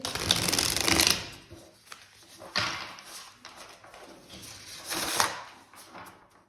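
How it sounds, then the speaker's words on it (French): Lucid Dreams Beginner's Tarot cards being shuffled by hand, close and fairly loud, with three riffling bursts separated by quieter handling. "Donc avec le Lucid Dreams Beginner's Tarot, on va déjà bien le mélanger"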